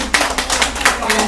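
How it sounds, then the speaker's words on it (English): A few people clap in a brief, uneven burst of distinct slaps, fairly close, lasting just over a second. "But give Shannon a big round of applause."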